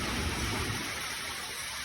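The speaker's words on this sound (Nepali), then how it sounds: "क्या दामी पानी पर्यो" Steady rain falls outdoors as a dense, even hiss with no break, fairly loud and heard on its own.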